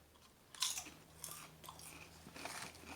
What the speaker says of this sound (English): That's a very light crunch.